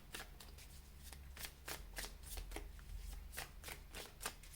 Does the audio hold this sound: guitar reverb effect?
no